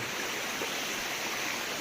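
Steady rushing water from an outdoor stream or free-flowing water source on a farm, a continuous broadband hiss holding even and fairly close throughout, with no voices.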